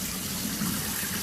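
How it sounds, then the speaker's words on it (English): Water poured into a pot of rice for rinsing, a steady soft gushing and swishing that runs continuously, close but quiet, with no voices. "and you put the water again and rinse it twice"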